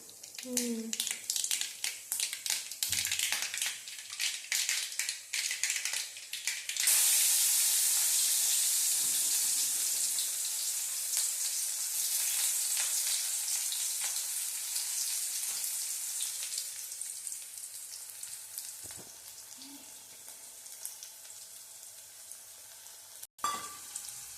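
Mustard seeds, onion and garlic fry in hot oil for a koorka mezhukkupurati. A dense hiss carries scattered crackles early on, then swells sharply after a few seconds into a loud, even sizzle that slowly eases, with faint voices nearby.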